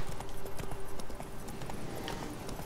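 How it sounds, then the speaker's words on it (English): Roach the horse from The Witcher 3 galloping, a steady rapid clip-clop of hooves on ground, moderately loud and continuous with no talking. "Up you get, horsey."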